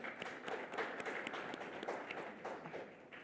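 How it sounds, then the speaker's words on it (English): A conference audience applauds with faint, distant, steady clapping that holds evenly for a few seconds. "a big applause to him"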